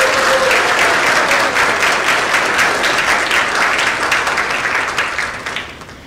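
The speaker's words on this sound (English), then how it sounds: "Let's give them a round of applause." A large audience at a high school world language honor society ceremony breaks into sustained applause, a dense, loud wash of clapping that holds steady and then fades over the last second or so.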